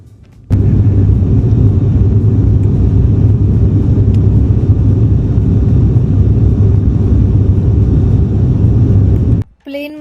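Airplane cabin noise during a flight from Hyderabad to Kolhapur, a loud, steady low roar of engines and airflow that holds constant before cutting off near the end.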